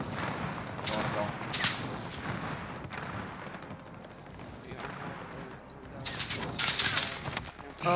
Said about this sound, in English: Oh yeah, they're shooting at Gray.